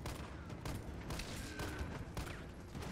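Gunfire rings out against zombies in Resident Evil 3 Remake, a run of sharp shots spaced irregularly over a noisy game background, moderately loud.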